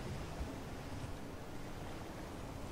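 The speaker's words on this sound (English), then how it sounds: "Just stare out into the water. Watch the waves" Ocean waves heard as a continuous broadband wash of surf, steady and moderately loud with some wind noise, no voices over it.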